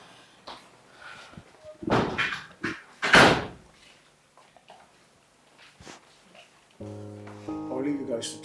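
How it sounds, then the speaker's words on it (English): Heavy knocking and bangs on a door, a few loud thuds in a ragged cluster, with voices talking around them and a brief musical tone near the end. "Hold on, don't break down my door."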